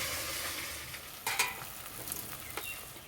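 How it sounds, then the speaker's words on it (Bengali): An egg omelette fries in oil in a wok with a soft, steady sizzle, broken by a few light clinks and scrapes of stirring; no one speaks. "ডিমের এই পিঠটা ভালো করে ভেজে নেব"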